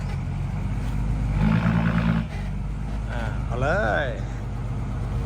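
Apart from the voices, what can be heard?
tractor engine working on road construction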